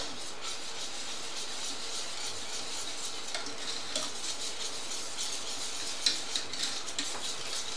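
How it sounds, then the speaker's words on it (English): Caster sugar is whisked into a pudding mixture: a steady, continuous scraping swish of the whisk against the bowl, with a few sharper clinks toward the end and no talking. "Whisk that in."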